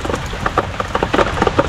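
Rain falls steadily on a Philippine vegetable farm near calamansi plants, a continuous patter with brief louder drop bursts, close and moderately loud, with no voices.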